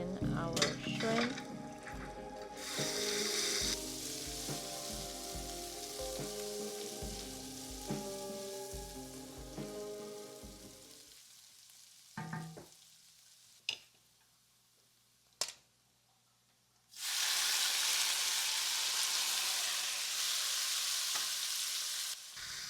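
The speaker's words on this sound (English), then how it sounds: "we're gonna add some olive oil in our garlic and let that saute for a minute before adding in our shrimp" Garlic sautés in olive oil in a pan with a soft, steady sizzle and occasional stirring taps, then shrimp go in and a loud, bright hiss of frying fills the last stretch.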